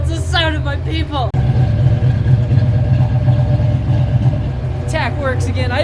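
A small block Ford V8 fitted with LS truck coils runs at a steady, loud rumbling idle close by, while a person's voice is heard over it at the start and end.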